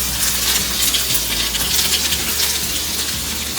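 Half a tablespoon of ginger fries in hot oil with fenugreek seeds for kadhi pakora, a steady, loud, close crackling sizzle that runs unbroken throughout.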